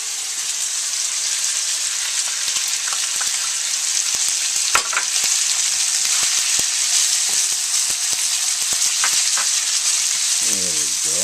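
Mushrooms fry in a hot pan for an instant ramen stir fry with pork, shrimp and vegetables, a loud, even sizzle with occasional stirring clicks and scrapes and no talking.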